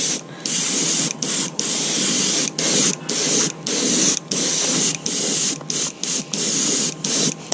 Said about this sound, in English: I've loaded the chamber with opaque white. We're just going to give it a solid cover here.